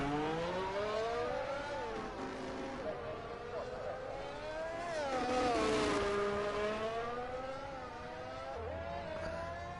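Race cars in a racing video game drive through a tunnel and tight chicane with layered engine whines that rise and fall in pitch under a commentator's voice.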